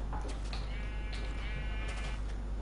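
A sheep from the Minecraft video game bleats in a brief wavering cry, moderately loud over a constant heavy hiss and low hum.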